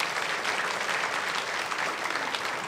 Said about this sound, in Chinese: 给他们掌声鼓励鼓励。